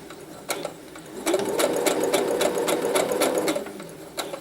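Sewing machine running a simple straight stitch on a fabric pin cushion: two quick stitch taps, then a steady mechanical whirring run for about two seconds before it stops with a final tap.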